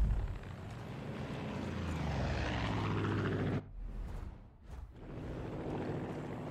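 Helicopter flying in the video game Far Cry 5, a loud, steady rotor and engine drone that drops out abruptly, dips away, then returns to a sustained roar, with no speech.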